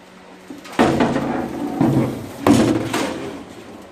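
A car door with rusty bottoms is flipped over on a workbench, giving two loud, close hollow metal thuds with rattling and scraping between them.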